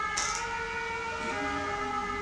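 Fire engine siren sounding outside, a steady wailing tone holding loud and constant throughout, with a brief hiss near the start.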